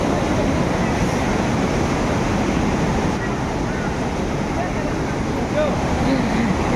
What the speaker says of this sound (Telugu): ఇంకా ఫుల్ ఫ్లోటింగ్ వాటర్, ఎంత ఫోర్స్గా వస్తున్నాయి చూడండి వాటర్ అయితే